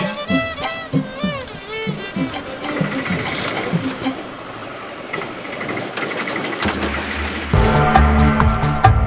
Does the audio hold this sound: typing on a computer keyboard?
no